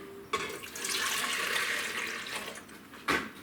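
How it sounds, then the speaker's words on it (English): Pomegranate juice pours steadily into a pan for a few seconds, a continuous splashing rush that ends with a brief clank. "So I pour it in my pan."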